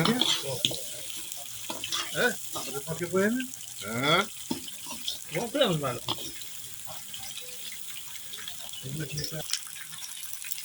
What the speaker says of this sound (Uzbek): Go'shtimiz qovurilyapti.